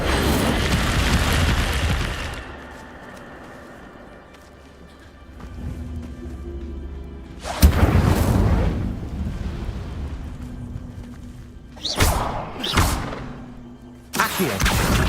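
An Incendio fire spell blasts in the game Hogwarts Legacy. A loud roaring burst opens, then several sharp whooshing eruptions follow one after another, each fading back into a low rumble.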